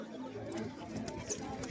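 A female pigeon among pigeon-keeping hobbyists cooing softly, low brief coos mixed with people talking nearby.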